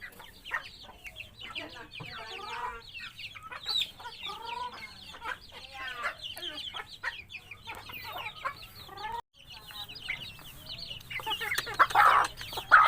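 Chickens clucking continuously at close range around a home yard, a busy overlapping chorus of hen calls with a faint low hum underneath.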